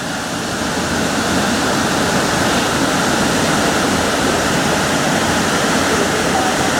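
A waterfall roars in a gorge, a dense, loud, constant broadband rush of falling water filling the whole stretch without pause.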